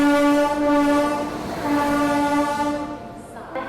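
The Prayagraj Sangam–Bareilly Express pulling into platform 1 at an Indian railway station, sounding a long, loud, sustained horn blast over rumbling wheels before the horn cuts off and the rolling clatter continues.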